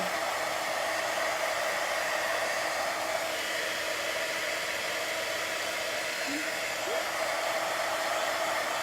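Hair dryer blowing steadily on a chalk craft project, a loud constant close whoosh throughout with no breaks and no voices.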